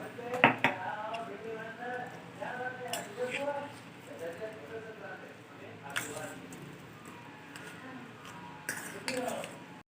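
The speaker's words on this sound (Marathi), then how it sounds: "चाट मसाला टाकून घेतलेला आहे आणि पांढरे तीळ व्यवस्थित मिक्स करून घेऊ आपण" Chaat masala and white sesame seeds stirred in a bowl: soft, close clinks and scraping taps of a spoon against the bowl, with a person talking over much of it.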